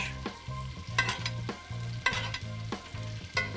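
Eelpout fillets sizzle in a pan of butter, garlic and parsley, with a steady crackle broken by rhythmic scraping strokes of a utensil against the pan.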